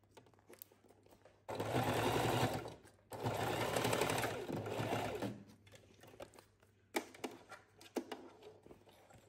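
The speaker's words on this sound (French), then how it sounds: "je viens de coudre ma deuxième surpiqûre" Sewing machine running two long bursts while topstitching a vinyl pouch, loud and steady, followed by quieter intermittent handling clicks and short mechanical taps.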